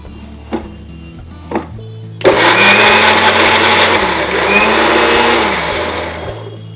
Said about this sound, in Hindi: अब हम इसे ग्राइंडर में मिक्स कर लेंगे, उसकी ग्रेवी बना लेंगे